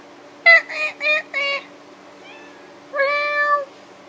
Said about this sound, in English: My cat is coming out from behind the couch.